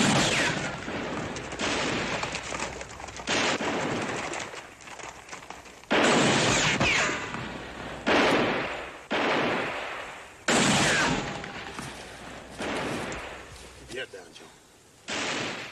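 Gunfire crackles through a western TV episode as a rapid series of loud, booming shots and reports that echo and overlap for the whole stretch, with shouted voices mixed in.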